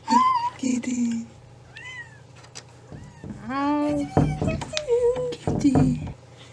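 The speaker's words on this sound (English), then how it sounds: "Kitty. Hello, Kitty" A cat gives several close, clear meows in a small room, separated by short pauses and mixed with a person's voice speaking softly to it.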